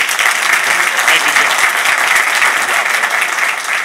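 Conference audience at a logistics summit gives a loud, close burst of steady clapping for a panel, continuous and even for a few seconds.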